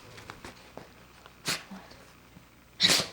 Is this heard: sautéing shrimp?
no